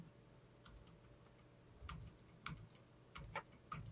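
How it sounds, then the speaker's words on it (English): Keys clatter on a computer keyboard in scattered quick bursts, fairly faint and close, during a pause at the end of a late-night NFL sports talk show, with no voices over it. "Are you typing something to me?"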